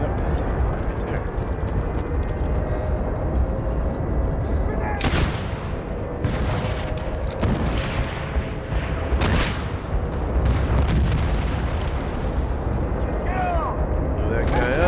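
Bombs dropping and exploding across a Battlefield 1943 map, with repeated loud booms and scattered gunfire cracks over a constant rumbling battle bed, while someone talks over the action.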